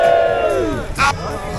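A crowd of runners at the start line of The Wall ultramarathon in Hadrian's Wall country cheers and whoops together in a loud, brief burst that quickly fades out.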